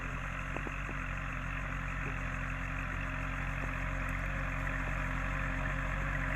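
A Kubota L4708 45 HP tractor pulls a CMT 5-disc harrow through a field, its diesel engine giving a steady, even low drone throughout with a few faint clanks from the implement.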